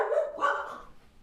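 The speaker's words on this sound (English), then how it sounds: "The dogs are barking." Dogs bark indoors in a short burst of two or three barks, fairly close and moderately loud, then fading into quiet room tone.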